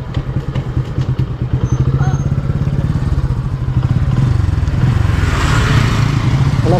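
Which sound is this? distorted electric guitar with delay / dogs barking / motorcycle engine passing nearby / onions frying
motorcycle engine passing nearby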